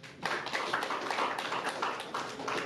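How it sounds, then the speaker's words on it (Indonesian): An audience applauds at an Indonesian political gathering, with quick, even clapping that stays steady and moderately loud throughout the clip, and no voices over it. "Tepuk tangan."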